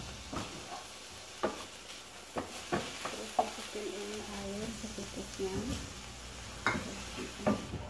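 Sugar stirred in a pan, heard as soft scraping and tapping strokes repeating every second or so, with faint sizzling underneath while someone talks over it.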